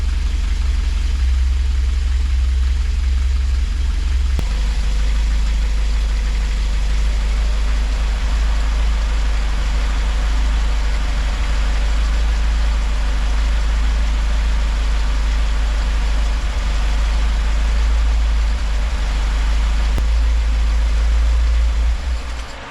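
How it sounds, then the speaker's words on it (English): Car engine idling with slightly tappety valves, next to a newly fitted aluminium radiator with an electric fan, a steady close low rumble with a faint ticking texture and no speech. "Engine sounds a little bit tappety"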